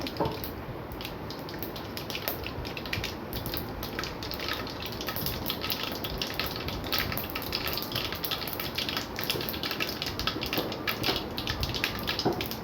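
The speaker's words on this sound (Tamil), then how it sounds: "கடுகு நல்லா புரியட்டும்" Mustard and fenugreek seeds splutter and pop in hot oil while a tamarind curry is being made, a dense continuous crackle of close popping that lasts throughout.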